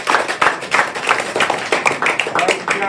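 An audience at a youth sports speed camp claps loudly for their parents, a brisk burst of close, rhythmic handclaps.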